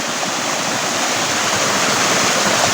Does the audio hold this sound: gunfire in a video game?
no